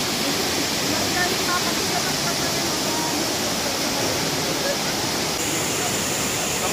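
Loud, constant roar of a waterfall at Mountain River Resort in Oriental Mindoro, a dense unbroken rush of falling water heard up close.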